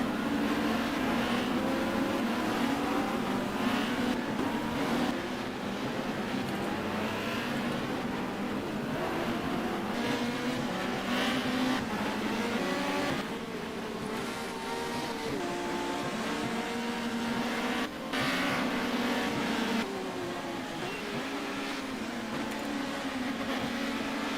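Touring cars racing at Oran Park in an Australian round, engines droning loudly and continuously with shifting pitch as cars pass and change gear, no voices over the steady roar.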